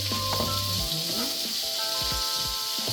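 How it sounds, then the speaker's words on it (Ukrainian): Salted food fries in a pan as it is stirred, giving a soft, faint sizzle with light scraping under a steady hiss, while a faint voice and tonal hum sit in the background. "Гарно перемішати."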